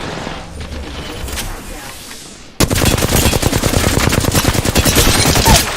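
Rapid automatic gunfire from a first-person shooter game kicks in midway as a loud, sustained burst of closely spaced shots, following quieter game ambience.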